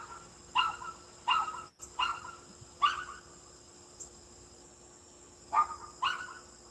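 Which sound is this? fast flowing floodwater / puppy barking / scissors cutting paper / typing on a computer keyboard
puppy barking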